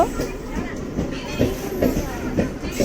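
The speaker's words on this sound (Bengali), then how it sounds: "ট্রেনটা এসে গেছে এবার আমরা উঠব" A Medinipur local train arriving at a station rumbles close by with rhythmic clattering wheels and a low steady roar, with some faint voices in the background.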